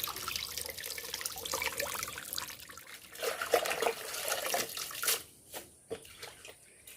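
Tap water runs and splashes over leaves being washed by hand, a steady broadband rush with irregular splashy bursts. The flow thins out toward the end into scattered drips and trickles.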